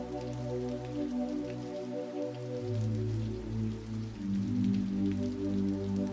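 Gentle rain taps on a window glass in a continuous soft patter, even and near, with a low steady hum beneath and nobody speaking.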